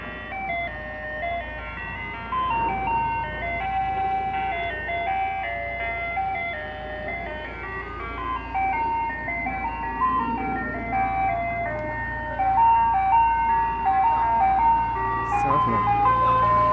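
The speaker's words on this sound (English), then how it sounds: "Our ice cream truck is back, you guys. It's playing in the middle pitch." An ice cream truck plays "Turkey in the Straw" in a medium pitch on Halloween afternoon. The tinny chime melody repeats steadily at moderate distance over a low road-traffic rumble, with faint voices in the background.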